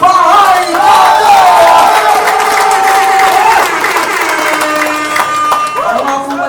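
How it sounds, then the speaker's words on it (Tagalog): A crowd at a rap competition at Cannivalismo cheers and claps loudly, with shouted, rising voices over steady applause throughout. "Akin pong hinihingi ang malakas na palakpakan at sigawan ng Bahay Gato!"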